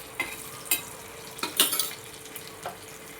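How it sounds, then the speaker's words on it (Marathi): Garlic cloves and cumin sauté in oil for a chicken thecha, a faint low sizzle with a few sharp scraping stirs and clinks against the pan. "लसूण आणि जिरं छान तेलामध्ये परतून घेऊया"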